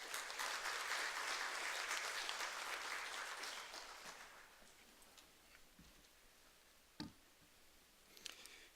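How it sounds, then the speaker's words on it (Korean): A church congregation bursts into loud, dense applause to welcome a guest speaker, clapping steadily for about four seconds before fading into scattered claps and quiet room noise. "우리 박수로 환영하도록 하겠습니다."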